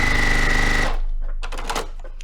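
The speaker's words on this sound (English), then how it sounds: "I'll just sew them real quick" A sewing machine runs fast with a steady, close mechanical whir while stitching fabric half square triangles, then stops abruptly, leaving a few soft clicks and fabric handling noises.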